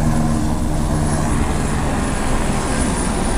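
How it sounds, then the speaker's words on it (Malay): Police helicopter passing overhead: a loud, continuous rotor and engine roar, steady and close throughout, with no talk over it. "ada helikopter polis ni, drone nak kejar tak?"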